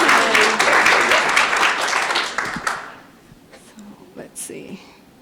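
An audience at a startup accelerator graduation and ribbon cutting ceremony applauds the mentors, a loud burst of clapping that fades out after about three seconds, followed by quiet rustling and a brief voice.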